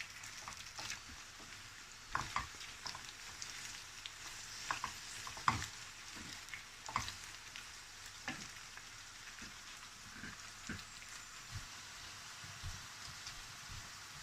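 Okra frying in a pan, a faint steady sizzle, like light rain, with scattered soft clicks and stirring taps throughout and no talking.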